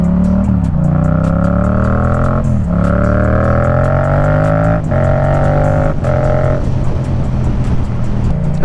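A Yamaha MT-07 motorcycle rides through town, its engine loud and close, climbing in pitch through the gears with brief dips at each shift and steady revving between.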